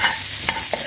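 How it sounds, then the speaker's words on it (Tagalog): Butter sizzling in a frying pan, a brief close hiss broken by a couple of quick stirring scrapes. "Ngayon maglagay ako ng butter dito sa pan."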